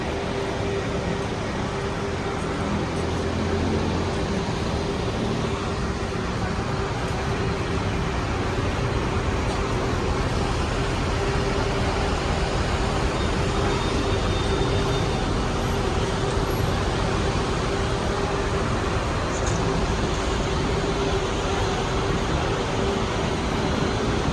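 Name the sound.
bus and traffic at SM City Clark main gate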